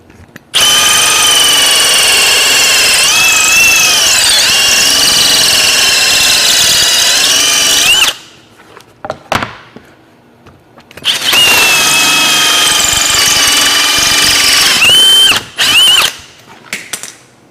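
A loud power drill drives a hole saw into a wooden board, whining at high speed in two long bursts, its pitch wavering under load, separated by a few seconds of clunks and pauses.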